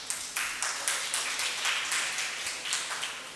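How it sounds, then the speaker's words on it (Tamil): An audience at a Tamil talk on lucky numbers claps together in a quick, even rhythm, a short run of crisp claps in a hall with no talk over them. "கைத்தட்டலாமா?"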